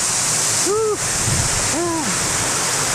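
Waterfall at Grutas de Tolantongo, Mexico, a loud, steady broadband roar of falling water that runs throughout, with two short vocal exclamations heard over it.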